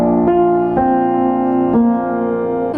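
Guitar riff from a song's chorus, a short melodic electric guitar phrase of a few sustained notes changing pitch in quick succession, loud and close with no talk.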